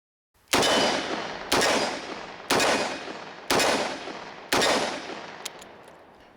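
A Ruger LCR .357 Magnum revolver fires five sharp shots of Remington ammunition, evenly spaced about a second apart. Each report snaps, then trails off in a short echoing decay.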